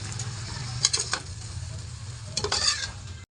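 Vegetables frying in a pan sizzle softly under a low hum as a utensil stirs them, with clusters of scrapes and clinks at the start and again near the end before an abrupt cutoff.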